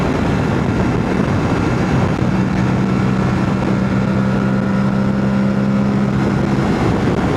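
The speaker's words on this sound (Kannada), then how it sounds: "ಹೆಂಗೆ ರೋರು ಇಂಜಿನ್ದು ಇಂಜಿನ್ ಸೌಂಡ್ ಎಲ್ಲ ಕೇಳ್ತಿದ್ದೀವಲ್ವೋ" A motorcycle cruises at about 167 km/h, its engine holding a loud, steady droning roar beneath constant rushing wind, with a humming tone that rises slightly partway through and no talking.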